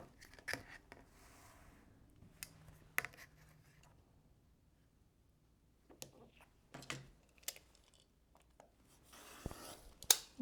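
A rotary blade slices crossways through quilt fabric in a quiet room, a few short crisp cutting and rubbing strokes separated by near silence, with a louder scrape at the very end.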